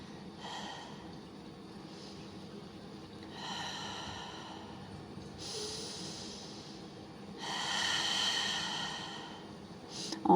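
During a Pilates exercise, a person draws several slow, audible breaths in and out, with longer airy exhales that grow louder toward the end, close by and unaccompanied by speech.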